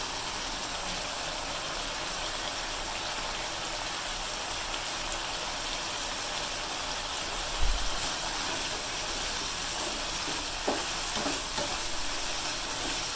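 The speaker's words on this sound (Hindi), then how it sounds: "इसको एक मिनट इसको फ्राई करें, उसके बाद इसको उतार लेंगे" Mixed vegetable curry frying in a pan, a constant broad hissing sizzle with an occasional soft thump and faint clicks of stirring, no voices.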